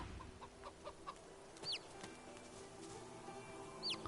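Chicken clucks and calls in Divinity 2, sounding faint and a little distant, with short chirpy bird-like calls around the second and fourth seconds over a low steady game ambience.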